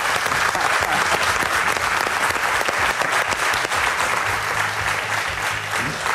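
Loud, sustained applause from a large television studio audience, dense clapping that carries on steadily for the whole stretch.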